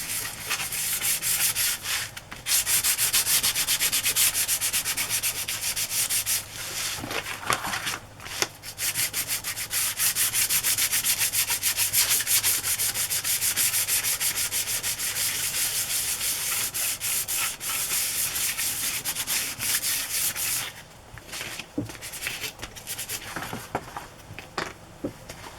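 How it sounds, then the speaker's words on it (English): A glossy cardboard journal cover rubbed with a nail file: continuous close, rough back-and-forth sanding strokes running for a long stretch, with a couple of brief pauses and no talk. "going to sand file this with a nail file"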